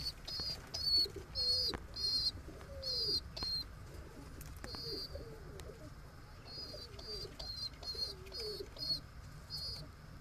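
Andhra high-flying pigeons sitting on eggs in a breeding loft give repeated low, throaty coos, joined by bright bursts of chirping from other birds and an occasional flutter of wings, all fairly quiet and close.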